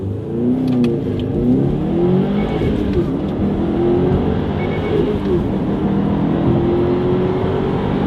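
A manual-transmission car launches from a stop with a gentle clutch release and accelerates; the engine drone rises steadily through the gears, loud and close from inside the cabin.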